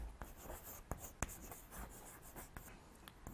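Chalk or a marker taps and scratches on a classroom board in a quiet room, with sharp clicks between softer scrawling strokes and no talking.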